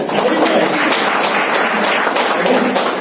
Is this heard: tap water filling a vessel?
no